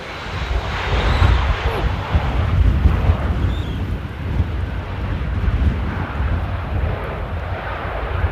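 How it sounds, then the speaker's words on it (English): Gusty wind buffeting an outdoor microphone at Amsterdam Airport, a continuous rumbling roar with surges and a distant aircraft engine droning beneath it, loud and close throughout. "it is very gusty"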